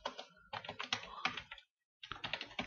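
Text typed on a computer keyboard in bursts of rapid close key clatter, with a short silent pause before a final run of keystrokes and no talk.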